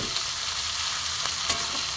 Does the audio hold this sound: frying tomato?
yes